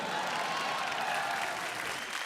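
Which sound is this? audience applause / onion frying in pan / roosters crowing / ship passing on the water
audience applause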